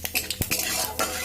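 Panch phoron spices fry briefly in hot oil in a wok for dal shukto, a soft sizzle mixed with quick scrapes and clinks of a spatula stirring.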